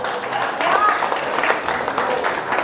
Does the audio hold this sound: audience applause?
yes